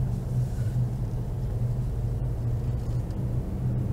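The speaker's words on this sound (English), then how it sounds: "That big truck's coming. Yeah, honey, I got a Royal Crown truck at that too" A big Royal Crown truck passes on a town street in Greenville, Georgia, heard as a continuous low rumble that stays loud and steady throughout.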